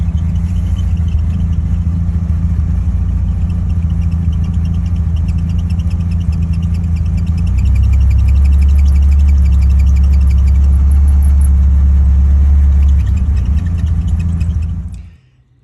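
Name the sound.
1960 Austin Healey Sprite engine ticking noise at idle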